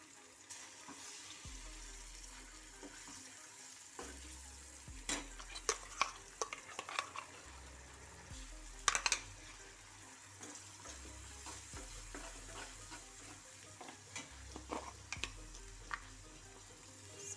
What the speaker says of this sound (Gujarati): કાંદાને મેં મિક્સરમાં પીસી લીધા છે એ નાખવાના છે